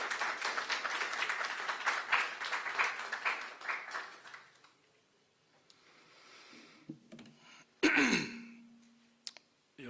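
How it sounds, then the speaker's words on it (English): Applause from the audience at a public forum on an architects bill, moderate and fairly close for about four seconds, then dying away into a quiet room with a cough and small shuffling noises. "please, a round of applause."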